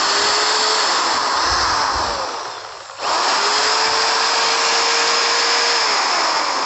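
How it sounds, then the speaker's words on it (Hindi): A Buildskill Pro electric drill machine runs with a loud, steady high motor whine. It briefly winds down partway through, then spins back up to full speed. No one speaks. "तो इस तरह से आपका ड्रिल मशीन वर्क करेगा"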